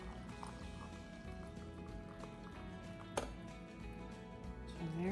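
Boiling water from a kettle is poured into a measuring cup, a faint, close, continuous liquid trickle with small splashes and a rising fill tone near the end, with no talking.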